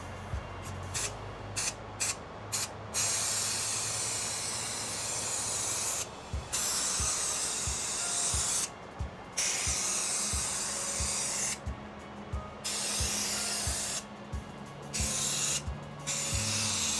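Aerosol spraying onto a Boston Whaler boat in a series of long hissing bursts, broken by short pauses, with a low mechanical hum running underneath.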